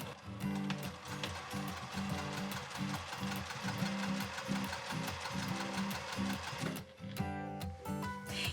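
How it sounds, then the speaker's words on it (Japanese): An overlock sewing machine finishes the raw fabric edges of an apron panel, running in a steady, loud mechanical chatter nearly the whole time with a brief pause near the end. "ここ1センチで両脇縫ったらロックミシンで生地端の処理をしておきましょう。"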